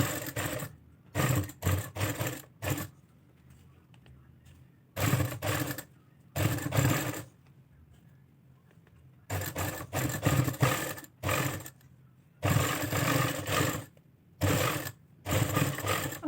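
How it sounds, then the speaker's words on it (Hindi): Sewing machine stitching a fabric patti onto a trouser hem, running in repeated bursts of a second or two separated by short pauses, close and steady without talk. "पहले एक साइड सिलाई लगाएंगे फिर दूसरी साइड"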